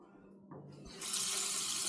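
Water suddenly gushes from a tap after a faint rumble, turning into a loud, steady hiss of running water that continues to the end.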